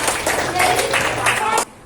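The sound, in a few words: students clapping in a classroom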